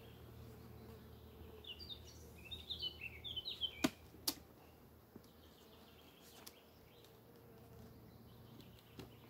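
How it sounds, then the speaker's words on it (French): Faint bee buzzing drifts in and out over quiet outdoor ambience during a honey harvest, with a few sharp clicks and knocks interrupting. "Il y a encore des abeilles dedans."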